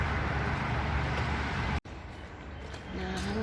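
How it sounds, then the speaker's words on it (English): Highway traffic heard from a street under repair, a steady broad roadway rumble and hiss that is fairly loud and constant, with a brief dropout midway. "over there's a highway, so you can hear all the traffic"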